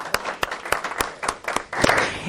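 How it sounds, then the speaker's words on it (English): A small audience at a business coaching talk gives a brief round of applause, sharp irregular claps close by, with a rising murmur near the end. "her a round of applause."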